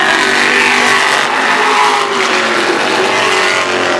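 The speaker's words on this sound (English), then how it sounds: "Bottom of turn number 1, car number 110, Kurt Snow. Moves in to second" Race cars roar around the oval at Stafford Motor Speedway during a heat, a loud continuous engine howl with revving and passing cars, no talk over it.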